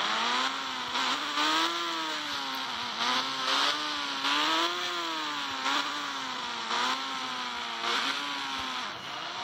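Synthetic motorcycle engine from a 3D Indian bike video game, a steady buzzing drone whose pitch rises and falls in repeated waves as the bike revs and eases off, loud and continuous with no talking.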